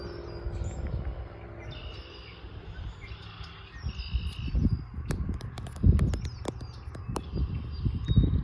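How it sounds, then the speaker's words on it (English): Birds chirping and calling outdoors, scattered short tweets and a few sharper calls over a low background rumble. "Lots of birds."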